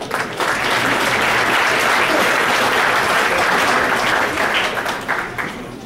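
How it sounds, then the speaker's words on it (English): Steady, dense applause from a banquet audience at a 2014 racing awards dinner, sustained loudly for several seconds before tapering slightly at the end. "let's give him a big round of applause"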